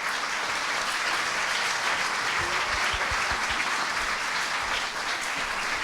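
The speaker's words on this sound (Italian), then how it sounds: "accogliamoli con un grande applauso" Audience at the Venice Noir literary event in Venice claps loudly and steadily, a dense, close, continuous applause welcoming the authors onto the stage, with no talk heard over it.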